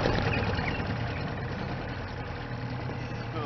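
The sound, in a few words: small two-stroke boat outboard motor idling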